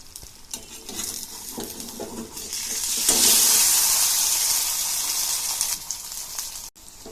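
Rice kalathappam sizzles in a pan after being flipped, a loud continuous frying hiss that swells midway and holds steady, with a few light scraping touches at the start.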